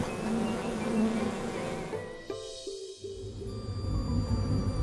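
A steady drone of buzzing bees fills the air, close and continuous, with a brief shift in pitch partway through.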